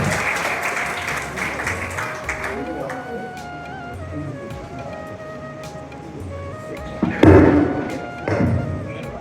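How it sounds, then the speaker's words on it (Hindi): A crowd at a Hindi-language memorial event for Shahid Udham Singh claps in a steady wash, with a voice and some tonal sounds mixed in and a sharp, louder burst near the end. "आपकी तालियों के साथ मैं इसको आमंत्रित करूंगा"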